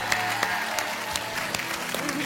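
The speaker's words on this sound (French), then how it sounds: "Elle est en super forme, Fabienne, vous pouvez l'applaudir." A TV game show studio audience applauds on the set of Still Standing, steady clapping filling the whole clip with a few sharper claps standing out.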